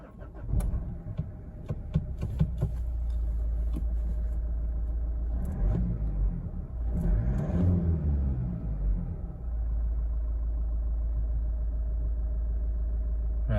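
A Mazda CX-5 2.2 diesel engine, fresh from an exhaust pressure sensor replacement, starts and revs up over a steady low idle rumble, its pitch rising and falling near the middle before settling back to a constant drone.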